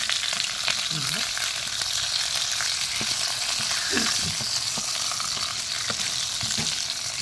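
Chicken for hamonado fries in a pan with a steady, dense sizzle and crackle throughout, with occasional light pops and spatters close by.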